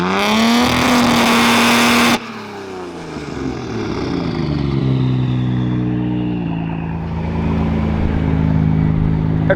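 A midnight purple Nissan Skyline R34 GT-R revs hard at close range, a steady high-rpm roar that cuts off abruptly, then settles into a loud, wavering idle and fresh revs with turbo whistle and flutter.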